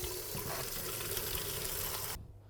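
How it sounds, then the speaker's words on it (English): Tap water pours steadily and loudly into a saucepan of potatoes, a continuous rushing splash that cuts off abruptly near the end. "And then you want to place your potatoes into a saucepan and then cover them with water"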